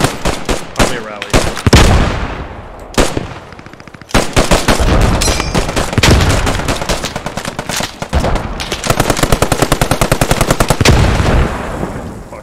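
M1919A6 machine gun laying down suppressive fire in the video game Post Scriptum: loud, close bursts of rapid automatic gunfire in long rattling strings, broken by brief pauses and occasional heavier reports.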